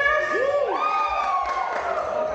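A crowd of Corinthians football fans cheers and whoops, several voices rising together in a loud shrill chorus that rings out for a couple of seconds.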